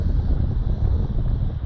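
Wind gusts over a TW 106 motor kayak out on the water, a steady low rumbling buffet against the microphone that carries on without a break.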